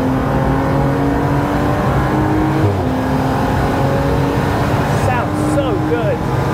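A BMW M135i race car with a swapped engine revs up to around 7,000 RPM at a busy track. The engine drone runs steady under crowd and other car noise, and people talk over it.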